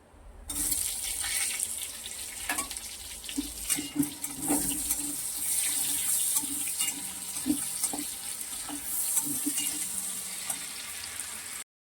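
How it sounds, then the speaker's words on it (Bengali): Onion with two cloves' worth of garlic, dried chilli and five-spice frying in oil, giving a continuous close hiss and sizzle with scattered small pops and taps across the whole stretch, no voices. "এখানে দেখো পেঁয়াজটা আমার ভাজা ভাজা হয়ে গেছে।"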